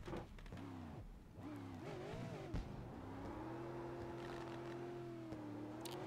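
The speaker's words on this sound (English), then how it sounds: "he does the burnout here on the straightaway" Race car number 18 doing a burnout on the straightaway at a NASRA race, its engine holding a loud, steady high drone that wavers and shifts pitch near the start, then settles into a sustained roar up close.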